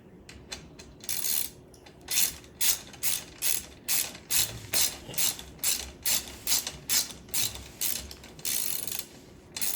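Ratchet wrench clicking as it turns a bolt on a Burromax XRA drag bike wheelie bar, a steady series of close, crisp ratcheting bursts in regular back-and-forth strokes.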